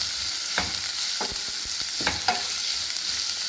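Egg tawa pulao ingredients fry on a gas-stove pan with a constant bright sizzle, while several scraping stirs of a spatula cut through the hiss at close range.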